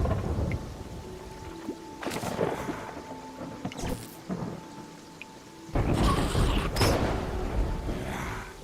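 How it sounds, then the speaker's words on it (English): A video game thunderstorm with lightning over water: rain hisses steadily while several sharp thunder cracks and rolling rumbles break through, loud and close, with no talking. "The lightning kills everything in the water."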